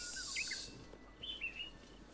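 Small birds chirp and tweet in an outdoor Zelda Breath of the Wild scene, a few short, fairly faint calls early on and again in the second half over quiet ambience.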